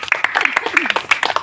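Audience members at a home business meeting clap in a lively, continuous burst of applause, loud and close, while a voice speaks over it.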